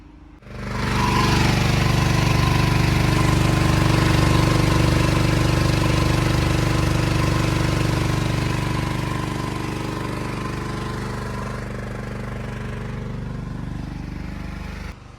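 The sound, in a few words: generator running while back-feeding a house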